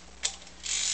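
A Bolex H16 16mm film camera is rewound by hand, giving a brief ratcheting click followed by a rising, close mechanical whirr of gears and pawl.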